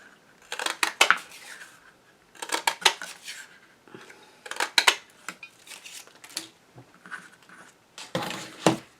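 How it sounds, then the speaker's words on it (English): A 2-inch circle punch clicks and crunches through recycled cardboard box material to cut circles, several sharp separate snaps in small clusters, close and fairly quiet with no speech. "So I'm just going to cut out some of these blue ones. This is a 2-inch circle punch"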